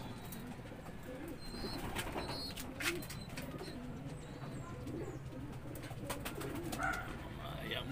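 Young pigeons in a loft coo softly and repeatedly against a low background hum, with faint rustling and a few brief chirps. A voice talks quietly in the background.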